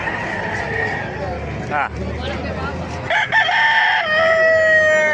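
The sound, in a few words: roosters crowing at a gamecock market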